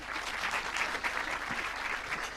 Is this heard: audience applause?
yes